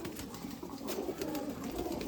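Adult pigeons of golden-eye stock in a loft cooing continuously at moderate volume, soft throaty calls overlapping with faint background rustle, no talk.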